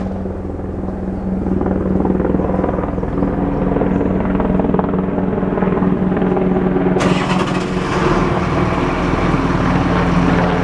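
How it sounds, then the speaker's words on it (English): A helicopter passes overhead during a lawn mower repair day outdoors, a loud continuous rotor thump and engine roar throughout that rises and gets brighter toward the end. "Here comes a helicopter."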